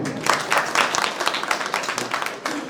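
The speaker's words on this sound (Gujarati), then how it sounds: "ફરીથી તાળીઓ." Renewed applause from the guests at a Sorathiya Prajapati community mass wedding in Upleta, a few seconds of dense, lively clapping with bursts of louder claps.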